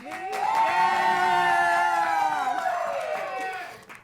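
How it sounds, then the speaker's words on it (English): A studio audience cheers and whoops loudly, a sustained swell of many voices that peaks early, holds, then fades toward the end. "I'm gonna place my hand over the heads, and you're gonna cheer for the person that you like the most, Ryan."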